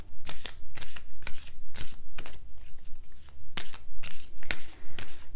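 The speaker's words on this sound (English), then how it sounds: "Let me pull another card from Kyle Gray's Keepers of the Light." Oracle cards from Kyle Gray's Keepers of the Light deck being shuffled and drawn, a steady run of crisp riffling bursts and papery flicks, close and clear with no talking.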